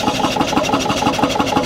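A 1962 Lille Skagen two-stroke glow-head diesel boat engine of 7–8 horsepower runs nearby. It gives a loud, even, rapid thumping beat with no voices over it.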